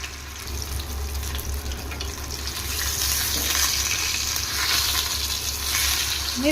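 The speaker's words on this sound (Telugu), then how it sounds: "మీరు కొంచెం పెద్ద కడాయి తీసుకునే పార్ట్ అయితే ఓ రెండు వేసి ఫ్రై చేసుకోవచ్చండి, వేపుకోవచ్చు." Thin fish pieces frying in oil in a kadai, a steady broadband sizzle that swells slightly louder midway and holds, close and continuous with no talking.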